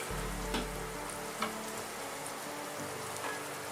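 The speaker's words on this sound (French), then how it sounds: "Ça c'est une sauce qu'on va faire mijoter un petit peu." A sauce simmering gently in a pan makes a soft, even sizzle with a faint patter, quiet and unbroken apart from a couple of light ticks.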